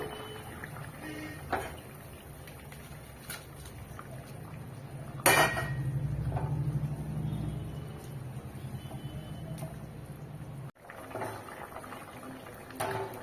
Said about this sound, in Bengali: ঝোল ফুটে গেছে, আমি আবার এতে মাছ দিয়ে দেবো।